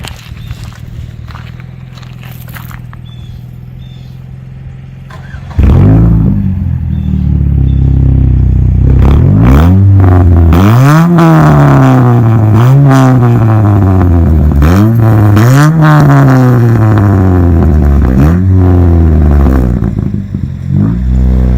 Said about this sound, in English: I'm gonna go ahead and start it and show you how it sounds.